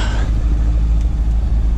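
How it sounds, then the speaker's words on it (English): A 2002 Corvette C5 Z06 V8 engine rumbles deep and steady at idle, loud and close, a low throbbing drone throughout. "Car sounds awesome."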